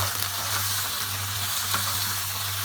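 Ginger and garlic frying in hot oil in a pan, a steady, close, continuous sizzle and hiss that runs without a break and without any voices.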